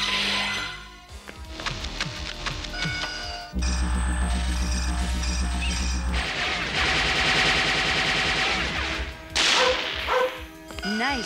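Rapid gunfire in a Robocop film scene, bursts of automatic shots with bright impacts over a dense music-and-effects soundtrack.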